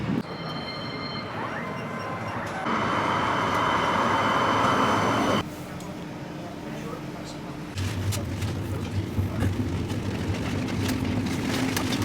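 A Birmingham tram runs with a steady rolling rumble and a broad mid-range roar that swells midway, then settles into lower wheel and motor hum, with brief rattles near the end.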